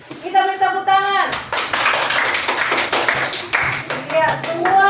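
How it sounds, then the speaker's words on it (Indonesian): Children in a classroom clap their hands together in a burst of quick, uneven claps, with an adult voice talking before and after. "Kita beri tepuk tangan."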